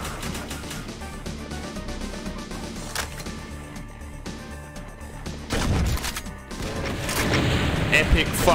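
Grenade explosions from the Doom mod Project Complexity boom in loud bursts over continuous game noise and gunfire, with heavier blasts crowding together toward the end.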